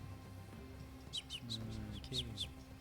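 A handful of quick, high chirps and tweets from birds burst in a loose cluster over a low steady background hum.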